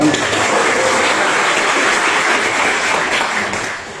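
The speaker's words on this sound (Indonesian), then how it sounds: "Tepuk tangan dulu" Audience at a business presentation applauding, a dense, loud wash of clapping from many hands that continues evenly throughout.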